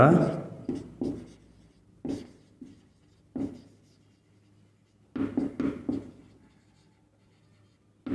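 Chalk or marker strokes on a board during a physics lecture on electrostatics, coming in short scratchy bursts with pauses between them and a quiet room underneath.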